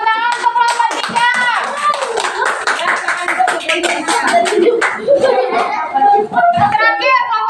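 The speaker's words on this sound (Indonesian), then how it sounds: "tepuk tangan untuk kelompok 3." A group of children and adults clap hands in applause for a team in a classroom activity, a dense, continuous patter of claps mixed with voices.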